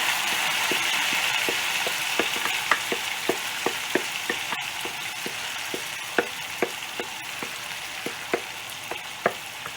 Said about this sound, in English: the cabbage salad, which has been marinating for about half an hour, I'm going to introduce that into there